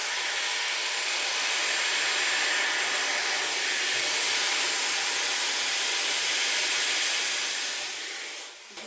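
A Dyson Airwrap blows a steady, loud rush of hot air while drying a strand of hair, a broad hiss that holds evenly close up for about eight seconds before winding down.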